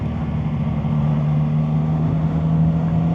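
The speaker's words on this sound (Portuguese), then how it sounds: "Mas eu tô gostando desse ronco dos 3 cilindros" Three-cylinder Chinese motorcycle engine running at a steady, even drone throughout, close and loud with no talk.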